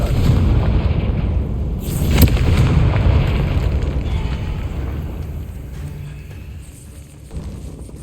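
A Confringo spell goes off in a Hogwarts Legacy catacomb as a loud booming burst that rolls into a long rumbling decay and slowly fades.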